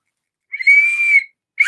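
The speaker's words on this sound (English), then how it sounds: "whistle." A loud, piercing whistle holds a single steady high tone for about half a second, then a second whistle blast starts after a short pause, with no talking.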